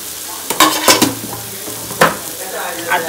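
Spring roll filling of chicken with red chili, chili flakes, salt and a pinch of turmeric sizzling in a pan, with a spoon scraping and clinking against the metal a few times over the steady frying hiss.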